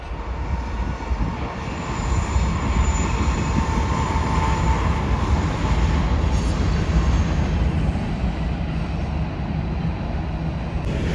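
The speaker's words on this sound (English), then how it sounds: "We got a train going by." A train rolls past a mountain homestead hillside in Idaho, a steady, loud broadband rumble that swells after the first couple of seconds and holds continuously, with no talking.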